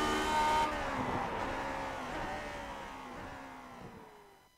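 Race car in the Grand Prix Legends racing game accelerating out of the final bend onto the front stretch at Interlagos, a loud sustained engine whine rising and then slowly fading, with no voices.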